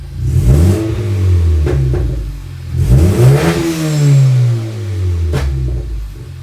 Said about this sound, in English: I'll give her a rev and see if I can get the blow off valve with the turbo speed